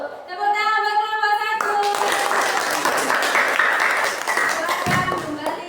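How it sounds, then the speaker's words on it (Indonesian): A classroom of children claps for the first group after its presentation: dense, continuous applause of many small hands, fairly loud, with a tonal sound fading out at the start and children's voices mixed in. "Tepuk tangan buat kelompok"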